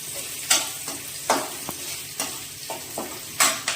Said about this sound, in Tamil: வெங்காயம் பூண்டு நல்லா வதங்கட்டு.